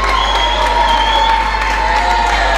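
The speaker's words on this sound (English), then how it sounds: "a massive round of applause for both of those fighters" Boxing-event crowd cheering and applauding both fighters after a bout, a loud, steady roar of claps and shouts sustained throughout with no pause.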